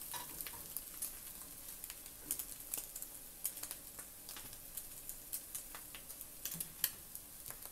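An egg fries in a pan for chilaquiles, a faint steady sizzle with scattered small crackles and pops throughout, close and alone without talk.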